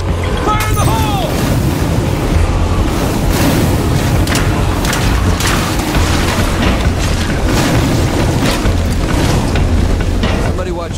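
A grenade explosion in the zombie survival game State of Decay 2 booms and then rumbles on loudly for several seconds, mixed with crackling debris and clattering noise.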